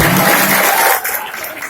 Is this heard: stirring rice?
no